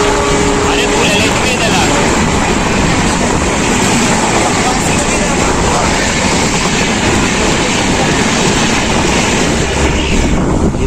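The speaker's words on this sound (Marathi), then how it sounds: "मधल्या स्टेशनवर कुठेतरी ट्रेन क्रॉसिंगला थांबली आपली किंवा समोर गेली." A train on the Mahalakshmi Express route runs steadily past near a station crossing, producing a loud, continuous rumble and broadband roar throughout with no break.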